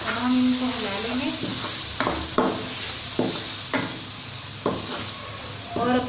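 Chopped tomatoes and green chillies fried in a pan for aloo palak, a loud close sizzle with repeated rhythmic scrapes of the spoon as they are stirred, a faint voice at the start.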